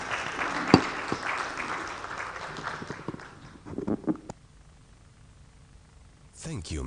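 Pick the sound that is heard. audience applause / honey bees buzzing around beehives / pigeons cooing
audience applause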